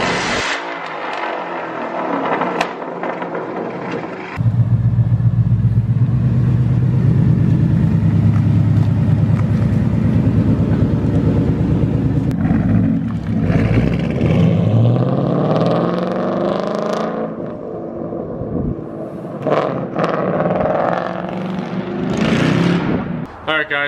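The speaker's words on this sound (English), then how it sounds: "that was way louder than the original exhaust" A straight-piped 2015 Ford Mustang roars loudly and steadily from about four seconds in, its deep exhaust rumble swelling and settling. The sound sits close, with a person talking over parts of it.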